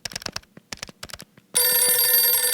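Keyboard-like clicking and tapping gives way to a telephone ringing, a loud continuous electronic trill that starts abruptly and holds steady to the end, with no voices.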